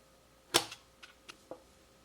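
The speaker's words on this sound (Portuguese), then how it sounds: "Vamos usar o estilete para isso." A utility knife cuts into the cardboard wrapper around a battery, giving one sharp crack followed by a few fainter clicks and snips, close and isolated in a quiet room.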